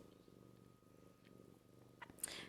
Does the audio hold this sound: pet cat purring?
yes